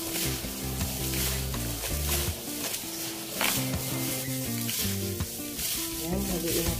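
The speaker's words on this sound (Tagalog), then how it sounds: "haluin natin mabuti" A utensil stirs fermented food in a pan, giving a steady close sizzle with scraping strokes while music plays loudly over it throughout.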